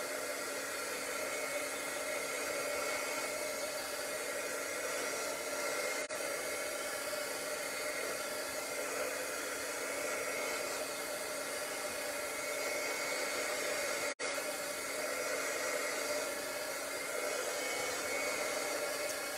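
A hair dryer blows steadily on a stamped paper craft card, a close, continuous whooshing roar with a brief cut near the end and no voices.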